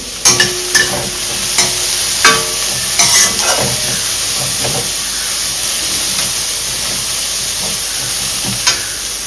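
Sliced onions and carrots sizzle and hiss in a hot pan for chicken fried rice, with a steady frying crackle punctuated by scattered scrapes and clinks of a spatula stirring.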